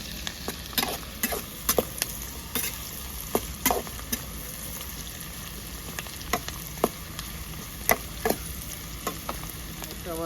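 Eggs fry in oil in a pan on a home stove, a steady sizzle under repeated sharp scrapes and taps of a spatula stirring, fairly close and with no speech.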